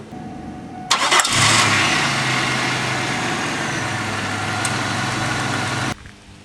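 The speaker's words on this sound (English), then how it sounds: "we're going to go ahead and start the car" A 2002 Pontiac Grand Prix engine cranks briefly and catches after an oil change, then settles into a steady, close idle hum that runs several seconds before cutting off.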